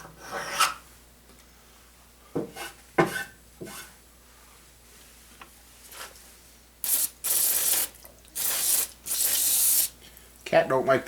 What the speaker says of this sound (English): cat don't like the spray bottle.